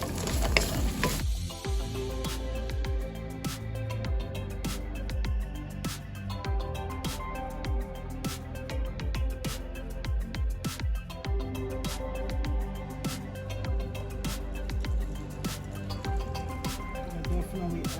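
Garlic sizzles in a pan for a vegan beef stew, with frequent sharp clicks and scrapes from steady stirring throughout; continuous frying hiss stays loud and close, with musical background underneath.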